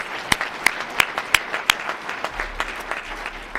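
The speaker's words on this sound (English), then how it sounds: "Yes, they deserve a round of applause" Audience applause at a Martin Luther King Jr. birthday celebration held with Temple Emeth: a steady wash of clapping from a crowd, with a few loud, evenly spaced claps standing out close by in the first half.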